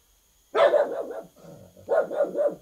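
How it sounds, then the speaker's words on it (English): A dog in the game Jurassic Park: Operation Genesis barks close and loud, a first quick run of barks followed by a quieter gap and then a second burst, with no speech over it. "And the dog did not appreciate me saying that."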